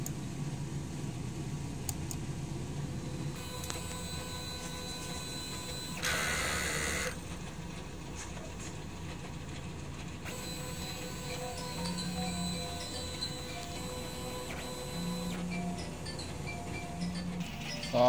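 DTF printer running a head clean cycle, a steady mechanical hum and whir with faint clicks and a brief louder pump or motor surge partway through, no talk.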